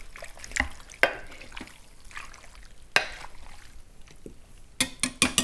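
Pork fat bits melting in a pot while rendering lard are stirred, giving sparse wet clicks and soft sloshing at a moderate distance, with a quick cluster of sharper scrapes toward the end.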